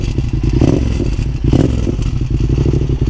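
A used motorcycle idling with a rapid, steady clatter as its long exhaust line ticks against the bottom of the engine, close and loud, with no voices.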